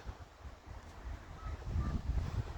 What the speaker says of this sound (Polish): wiatr fajnie zwiewa.